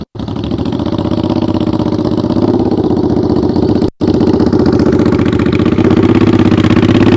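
A motorcycle engine runs at high throttle while the bike creeps along slowly, a loud, close, steady mid-pitched drone with a rapid pulsing beat and a brief dropout partway through.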